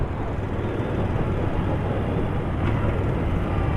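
A Yamaha Star Bolt 950cc motorcycle engine under way during a ride, a steady, loud, broadband drone mixed with wind rush, continuous and unbroken throughout.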